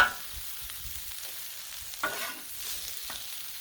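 Smashed potatoes and vegetables fry on a Blackstone outdoor griddle, giving a faint, steady sizzle with brief scraping or stirring sounds near the two-second and three-second marks.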